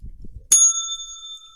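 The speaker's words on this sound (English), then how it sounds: "that deserves a bell." A single bright bicycle bell ring sounds after a brief low rumble, its clear metallic tone hanging and slowly decaying for about a second with no talking.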